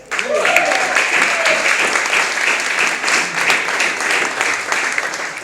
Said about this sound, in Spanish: Des un aplauso.